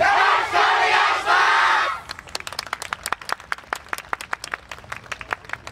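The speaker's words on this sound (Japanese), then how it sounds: "ご声援手拍子よろしくお願いします" At a yosakoi dance festival, a crowd gives a loud, cheering shout in waves, then settles into brisk, uneven clapping from many hands.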